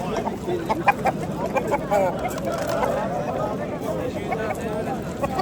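Chickens and roosters at a Namangan poultry market cluck and call intermittently amid a busy crowd, with people talking throughout.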